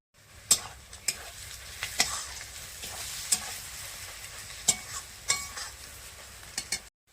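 Chicken fries with chili and turmeric powder in a pan, a steady sizzle broken by repeated sharp scrapes and clinks of a spoon stirring at an uneven rhythm, close and clear with no talking.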